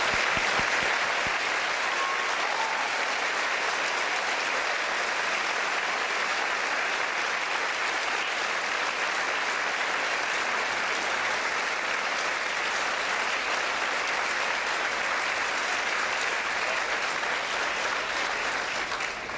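A large audience at a high school scholarship awards ceremony gives veterans a long, steady round of applause, dense and even from start to finish.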